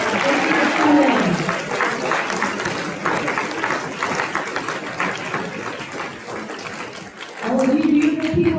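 An audience applauds senior speakers at the close of a speech event, a dense, steady wash of clapping that runs for several seconds, with a voice talking briefly at the start and again at the end.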